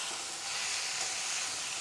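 Spinach hitting a pan of fried onion and garlic gives a steady, bright, dense sizzle that holds evenly throughout, close and loud with no voices.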